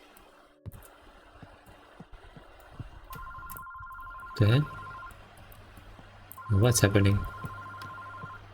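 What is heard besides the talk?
telephone ringing in a horror video game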